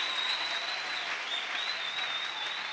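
Church congregation applauding, a dense, steady wash of clapping from many hands that holds evenly throughout, with no voices standing out above it.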